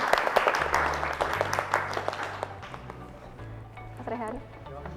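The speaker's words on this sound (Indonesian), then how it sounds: "beri aplaus untuk kalian semua" A small group gives brief applause at a school Rupiah competition, scattered close claps that fade out after a few seconds amid a faint background hum.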